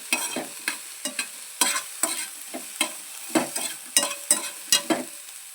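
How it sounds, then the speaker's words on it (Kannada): Onions fry in a pan for North Karnataka brinjal palya under a soft sizzle, while a spoon scrapes and taps the pan in quick irregular strokes close by. "ಇಲ್ಲಿ ಈರುಳ್ಳಿನ ಫ್ರೈ ಮಾಡಿ ತೊಗೊತಾ ಇದ್ದೀನಿ."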